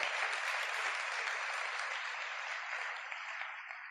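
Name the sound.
congregation applause for Jesus Christ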